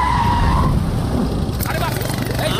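A car brakes hard and its tires squeal in a long, loud skid, with a busy, noisy background and people talking over it.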